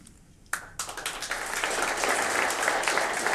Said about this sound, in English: A lot of clapping for the tech guy